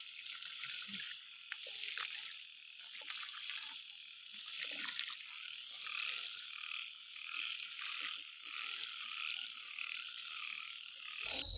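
Frogs croak steadily in a dense, continuous night chorus over a hiss of insects or water, holding a constant level throughout with no speech.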